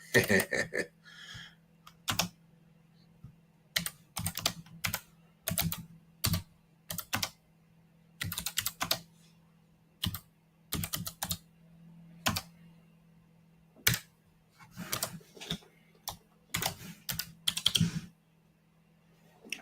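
Keys clatter in uneven bursts of fast typing on a computer keyboard, close up, with pauses between runs and a low steady hum beneath.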